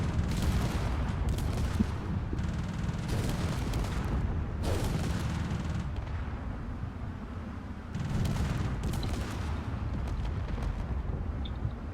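Sustained bursts of rapid gunfire from a combat drone's turret during a cargo raid, loud and close, with dense rattling volleys broken by brief lulls over a constant rumble.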